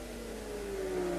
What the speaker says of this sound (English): This Ferrari using a flat 12